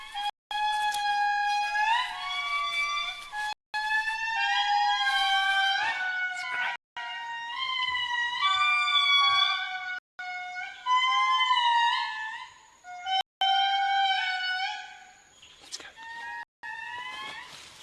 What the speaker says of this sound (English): the biggest of the lemurs has got the loudest of the calls